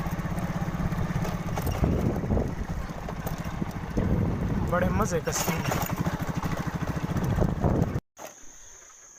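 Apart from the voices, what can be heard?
motorcycle engine running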